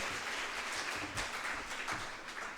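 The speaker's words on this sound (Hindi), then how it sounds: "जोरदार तालियां।" Faint, distant audience applause at a school farewell function for outgoing students, a soft steady patter of many hands with a few louder swells, heard alone without talk.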